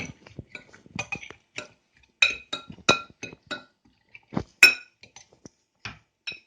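Eggs seasoned with black pepper are beaten in a bowl for an omelette, giving irregular bright clinks and taps of utensil against the bowl, some sharper strikes among softer ones, close and without talk.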